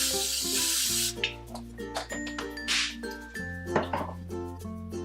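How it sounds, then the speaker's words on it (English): A hissing burst of coconut oil cooking spray onto a muffin pan, followed by light clinks and taps of metal pans over a steady low hum of background music. "I'm gonna spray those with some coconut oil so that our bread does not stick."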